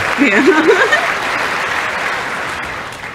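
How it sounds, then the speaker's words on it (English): Close, loud applause from someone clapping right against a chest-worn microphone, a dense burst that slowly thins out over a few seconds, with a brief voice at the start. "Someone with a mic like right on their chest is clapping, and I can hear that"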